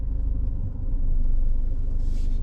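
A Citroen C5 Aircross drives over a rough, uneven off-road surface, heard from inside as a loud, steady low rumble of engine and tyres with faint bumps.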